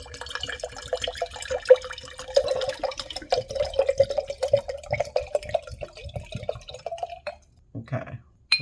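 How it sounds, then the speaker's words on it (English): Water pours out of a glass jar as a run of close, quiet trickles and irregular splashy drips, thinning toward the end and then stopping briefly before a last few drips. "Maybe if I pour the water out of this other jar."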